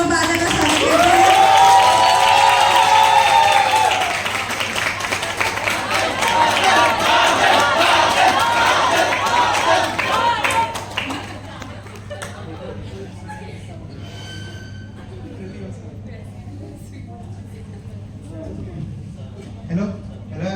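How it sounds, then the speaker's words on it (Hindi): Audience at an IBPS PO training cultural fest claps and cheers as a performer is welcomed, a loud crowd roar mixed with voices that swells for several seconds, then drops away into quieter room noise. "तो जोरदार तालियों से हम लोग बादल का स्वागत करते हैं"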